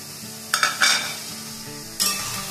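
Carrots and capsicum stir-fry in a pan, with a few sharp spatula scrapes and clinks over a soft sizzle, the strokes coming in a quick cluster and then once more.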